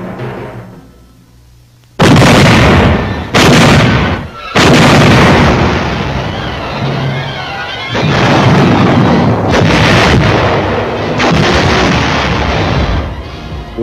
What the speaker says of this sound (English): placed our artillery, and commenced firing at Wakdi Island